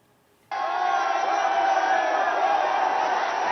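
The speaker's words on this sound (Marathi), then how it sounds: "आणि त्यानंतर आता विद्यार्थ्यांकडनं विजयी जल्लोष।" Students celebrating a victory at Jantar Mantar in Delhi after their protest succeeds, a loud, sustained crowd roar of cheering that bursts in suddenly and holds steady without pause.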